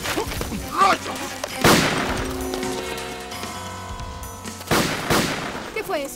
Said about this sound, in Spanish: ¿Qué fue eso? Disparos.